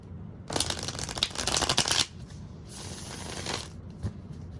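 A Naked Heart Tarot card deck is shuffled in two close, crisp riffling bursts, the second shorter, with quiet pauses between.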